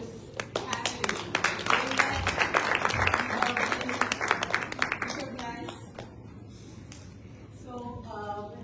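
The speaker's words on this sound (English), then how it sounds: "let's give a round of applause for our previous panelists" An audience at a panel event gives a round of applause, dense and steady clapping for about five seconds that then thins into a few scattered claps, with voices in the room.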